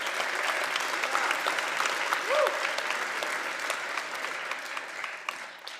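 Warm audience applause at a community awards ceremony, steady dense clapping that tapers slightly toward the end, with a faint voice briefly audible underneath.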